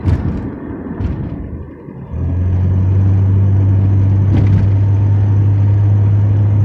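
Steady traffic rumble from a highway in Chester, Pennsylvania, with a heavy low drone that swells after a brief dip and then holds constant, like vehicles passing close by in the evening.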